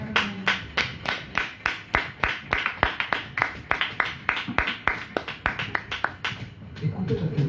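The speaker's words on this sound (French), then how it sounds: "Applaudissons très fort le Seigneur." A church congregation claps together in a fast, even rhythm, with sharp, regular beats that carry through the whole stretch while a faint murmur sits underneath.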